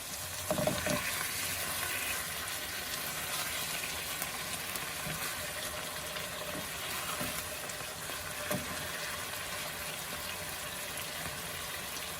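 A salmon fillet frying in a hot pan gives a steady, dense sizzle with faint crackles and an occasional soft knock, heard close and continuous at low volume with no voices.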